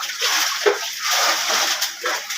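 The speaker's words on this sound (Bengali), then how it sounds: "অনেকটা ছেঁচে জল কমিয়ে দিয়েছে" Floodwater being bailed and splashed inside a rain-flooded shop, with broken sloshing and splattering bursts in an irregular rhythm, close and fairly loud throughout.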